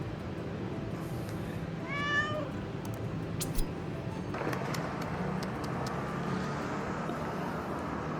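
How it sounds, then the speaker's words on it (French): A small cat meows once, a short clear cry, outside a mosque in Turkey amid steady street and traffic noise, followed by a few faint clicks and background rumble. "Caresser le petit chat devant la mosquée"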